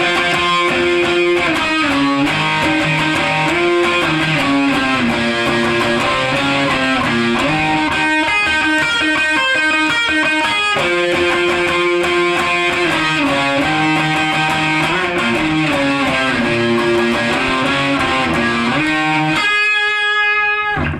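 A distorted electric guitar solo from a rock song, a fast run of gritty sustained notes and bends played continuously and loudly, ending with a brief burst of noise, no talking.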